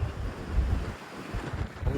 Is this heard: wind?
yes